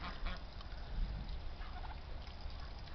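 Turkeys gobbling near a flock that includes a duck, rapid throaty gobbles repeating in short bursts over faint outdoor background, no talk.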